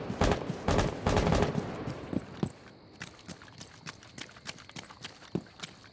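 Burst of gunfire in the tactical shooter Rainbow Six Siege, with rapid loud shots clustered in the first two seconds, then scattered quieter pops and clicks trailing off.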